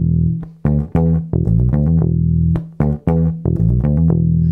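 A one-bar riff in E on bass guitar: punchy, plucked low notes in a syncopated funk pattern, played twice. It is loud and close, with no other sound.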